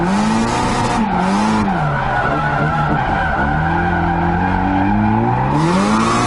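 A drifting Nissan 240SX screeches through a long tire slide, loud and continuous, with the engine and turbo rising and falling in pitch as it spools up repeatedly underneath.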